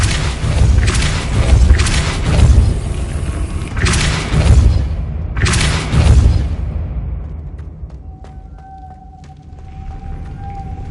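Depulso spell cast in a wizard game, several heavy whooshing booms in quick succession with deep rumbling tails, fading into a quieter hum with faint tones.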